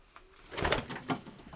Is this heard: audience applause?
no